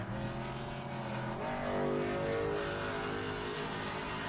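A race car engine from the NASCAR Winston Cup 1972 racing game at Richmond drones steadily and fairly loud, its pitch rising and falling slightly as the car drives on, with no talking.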